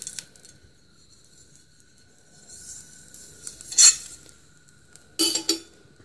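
Metal utensil scraping and clinking against a frying pan while oil is spread, with a few sharp louder clanks near the end and quiet gaps between.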